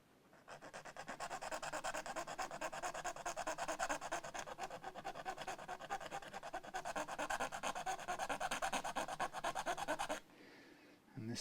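A part on a Fender MIM guitar scraped steadily back and forth at close range, a dense, even rasping rub lasting about ten seconds before stopping abruptly.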